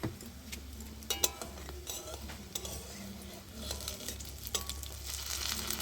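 Banana-flower peel fritters fry in a pan with a steady low sizzle, broken by a few sharp clinks and scrapes of utensils, close and moderately loud with no talk.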